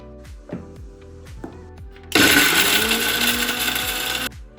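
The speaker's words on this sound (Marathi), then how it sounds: "आता हे मिक्सर मध्ये बारीक करून घेऊया." A mixer grinder whirs loudly as it grinds cumin, coriander leaves and coconut into a paste for Marathi amti, starting abruptly after a few rhythmic knocks and running for about two seconds before cutting off.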